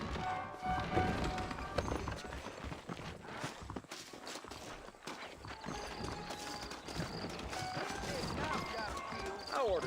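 Horse hooves clip-clop in the Western video game Red Dead Redemption, a steady walking rhythm running under other game sounds and ambience throughout, moderately close.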